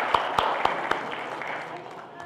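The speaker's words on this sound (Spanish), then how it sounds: "Un fuerte aplauso, por favor." A few sharp, separate claps followed by a softer scattered patter from a conference audience at an anti-corruption event, with a voice talking over it.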